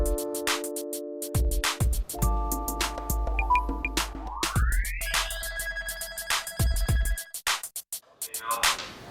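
A telephone rings on an outgoing call, repeated tonal ring-back and ringtone bursts with pauses between them, clear and close with no talk over it.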